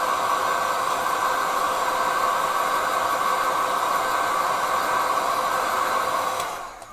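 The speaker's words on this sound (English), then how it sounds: "you can use the hairdryer" Hairdryer drying a silk texture in a watercolor painting, a loud, steady blowing whir held close for several seconds before it is switched off and winds down at the end.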